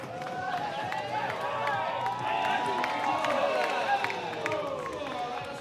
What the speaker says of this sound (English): look at the Rhinos men cheering on their girls